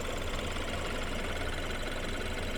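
A quiet BMW 328i xDrive wagon engine idles steadily, with a faint rapid direct-injection ticking running through the low hum throughout.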